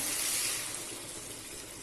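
Water poured into a pan of Odia-style fish curry gives a steady, close rushing hiss that fades slightly over a couple of seconds, with no talking.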